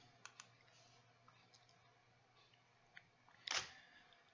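A Nikon D70 camera tethered to software, several faint mechanical clicks followed by one louder shutter release near the end, close and quiet.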